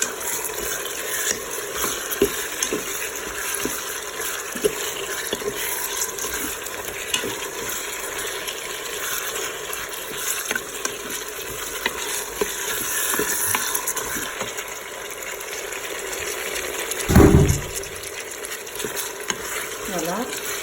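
Chicken and tomatoes are stirred in a Cookeo pot, giving a continuous soft sizzle with scraping stirs throughout and one louder knock near the end.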